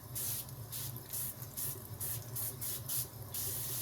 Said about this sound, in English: now I got this avocado cooking spray, oil cooking spray